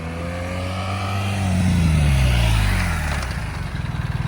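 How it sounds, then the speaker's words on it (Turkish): During a basic motorcycle handling drill on a practice course, a motorcycle's engine note swoops down as it brakes hard, then rises again as it speeds up, loud and close, with no talk. "Şimdi ani fren hızlanacak."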